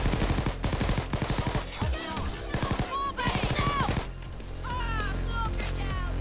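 A Thompson Chicago Typewriter submachine gun in Payday 2 fires rapid automatic bursts of clattering shots. The bursts sit under a loud, dense game soundtrack, and a voice is heard alongside them.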